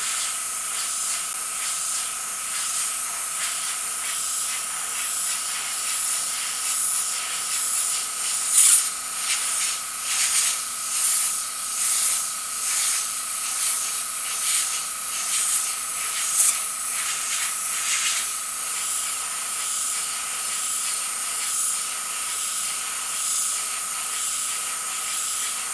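Airbrush spraying paint onto a shield and paper canvas, a steady close hiss running the full length with rhythmic pulsing bursts in the middle as the trigger is worked, no voices.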